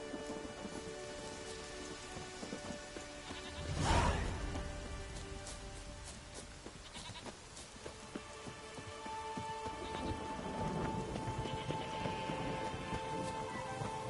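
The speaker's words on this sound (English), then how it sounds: "Oh, raining again." Steady rain patters on surfaces throughout in the video game The Witcher 3: Wild Hunt, with a low rumble of thunder swelling briefly early on; no voices.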